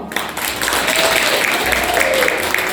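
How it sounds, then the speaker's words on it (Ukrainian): Steady applause from a crowd at a kindergarten New Year party in Zaporizhzhia, a dense, continuous clapping that fills the room with faint voices mixed in beneath it. "Аплодисменти!"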